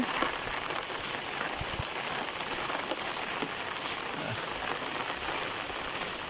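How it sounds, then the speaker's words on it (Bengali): Steady rain falls on outdoor surfaces during a sudden downpour, a continuous even hiss of drops with occasional louder drips close by, heard alone without voices. "প্রচুর বৃষ্টি হয়ে গেল, এখনো হচ্ছে"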